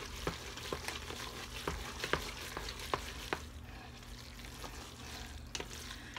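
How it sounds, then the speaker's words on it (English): Cheese melting with butter in a pot for mac and cheese, stirred with a spoon that scrapes and clicks against the pot in irregular taps over a low background hiss, close by, no talking. "Just melt all that cheese."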